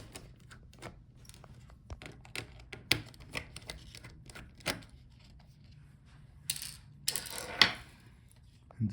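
Screws removed from the I/O board of an Acer Nitro 16 AN614 gaming laptop, with small scattered metallic clicks, taps and scrapes of a screwdriver and loose screws, close and quiet, with no talk.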